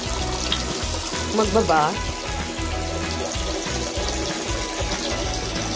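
Tap water runs continuously to fill a baby's bath, a steady splashing rush at close range, while someone talks briefly over it.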